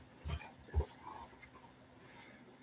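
A dog chewing and tearing at a chew toy nearby, giving two short crunchy bursts early on and then quieter, sporadic gnawing and rustling.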